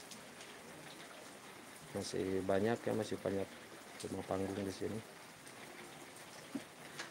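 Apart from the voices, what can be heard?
rain falling on a village of stilt houses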